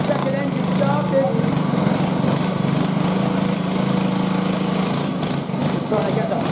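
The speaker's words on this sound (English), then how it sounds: "Any moment now to get that second engine started." A small engine at a 7-hour enduro race in south-east Queensland runs loud and steady throughout, a buzzing motorcycle motor revving with background voices talking around it.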